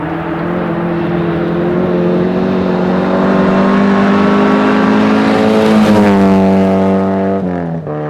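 Rally car at full throttle on a 2005 club rally stage, its engine roaring loud and close with steady high revs, rising toward a peak and then dropping sharply near the end as the driver lifts off.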